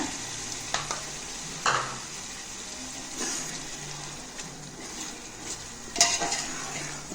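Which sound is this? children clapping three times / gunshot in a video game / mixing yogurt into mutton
mixing yogurt into mutton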